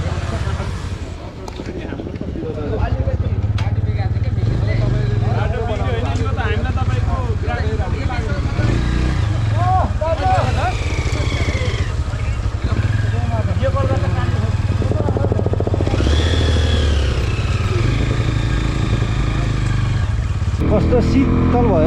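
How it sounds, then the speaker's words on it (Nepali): A motorcycle rides along a road near Halesi, its steady engine drone and wind rush running continuously close to the microphone, with people talking over it throughout. "हाम्रो बाइक चाहिँ अब यो चाहिँ रोडमा आएपछि"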